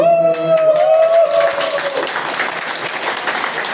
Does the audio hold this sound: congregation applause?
yes